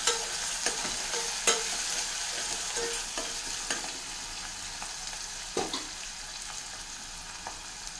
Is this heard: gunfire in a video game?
no